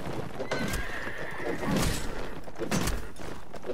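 Horses whinny amid a busy Mount & Blade Warband battle, with a long neigh standing out over hoof clatter, thuds and steady combat noise.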